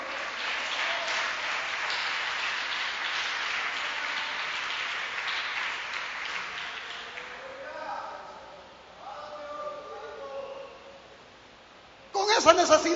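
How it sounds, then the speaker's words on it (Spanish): Church congregation applauding during an evangelical sermon, a steady wash of clapping for several seconds that fades, followed by quieter voices and a sudden loud burst at the end. "Dele aplauso, Señor, que tenemos esa noche"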